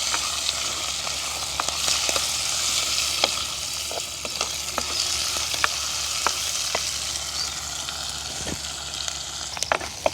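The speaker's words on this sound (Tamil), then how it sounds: "வெங்காயம் பச்சை மிளகாய் உள்ளி எல்லாம் எங்களுக்கு வதங்கினது காணும்" Onion, green chilli and garlic sautéing in a pan in a village kitchen, a continuous close sizzle broken by frequent sharp clicks and scrapes of stirring, with no voices.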